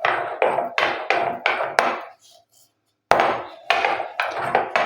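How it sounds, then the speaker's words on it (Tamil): Rapid rhythmic grinding strokes of stone crushing dry tea leaves into powder, repeated in quick bursts, pausing briefly before resuming; close and fairly loud. "இந்த டீத்தூளை இந்த கல் வச்சு நல்லா வந்து லைட்டாக அப்படி நுணுக்கி விட்டிங்கன்னா நல்லா பவுடர் ஆகிடும்."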